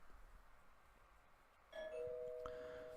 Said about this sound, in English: Ding dong, I guess she's here.